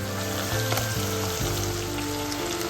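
Onion and garlic frying in a pan produce a dense, even sizzle and crackle up close, with faint stirring movements underneath and no talking.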